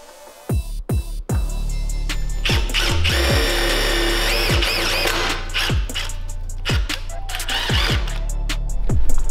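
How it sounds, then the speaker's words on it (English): A Milwaukee drill tap bores a hole in metal while fitting a gas tank mount on a Trailmaster MB200 minibike, giving a steady close whine broken by repeated ratcheting clicks and a rising grind at the end. "And we use the Milwaukee drill tap."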